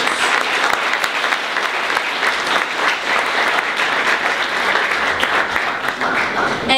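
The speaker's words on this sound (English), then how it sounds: "it deserves a bigger round of applause" A large audience at the IVBI Voteathon Awards ceremony claps loudly and continuously, a thick, even wash of applause that holds at full strength from start to finish.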